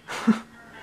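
A single short sneeze, most likely from a cat perched on a shelf above a washer, quick and fairly close, with a breathy burst.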